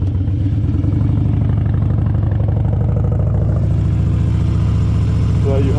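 Car engine revving hard and steady at high RPM while doing donuts, a dense continuous drone that stays loud throughout with slight pitch wobble as the throttle is held.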